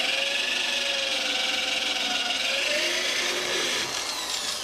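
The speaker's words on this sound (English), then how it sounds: "I have a 1/4 inch bit here, and I'll bore one end of this." A power drill with a 1/4 inch bit bores into the end of a wooden door part, a loud, continuous whirring grind with a shifting pitch that eases off slightly near the end.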